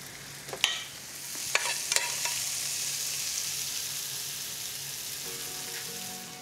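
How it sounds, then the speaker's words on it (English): Basil leaves deep frying in hot oil for a modern carbonara, a steady close sizzle and crackle with a few sharp pops and bursts early on, settling into a continuous hiss. "Deep fried basil to finish"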